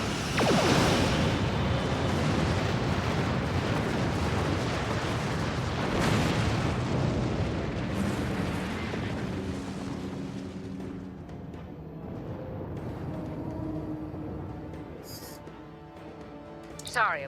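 Starship weapons fire in the Star Trek Online space game: loud booming blasts and bursts crowd the opening seconds, then fade into a tonal, musical ship ambience with a brief electronic chirp near the end.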